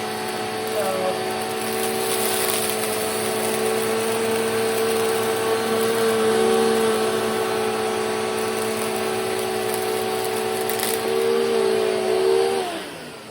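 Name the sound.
Filter Queen Empress vacuum cleaner running on rug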